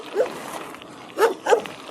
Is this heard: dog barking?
yes